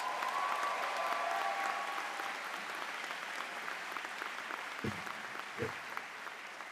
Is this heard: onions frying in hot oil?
no